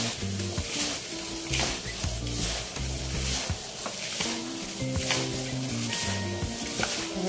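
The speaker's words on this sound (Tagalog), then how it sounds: "Haluin natin mabuti para talagang mix na ayos." A mixture is stirred steadily in a bowl, the utensil scraping and swishing in a repeating rhythm, close and clear, over a quiet musical bed with no talking.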